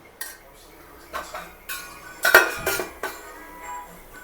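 A metal lid set onto a cooking pot while boti gongura is being made, with a few sharp clinks and clatters of metal cookware, close and fairly loud against a quiet kitchen background.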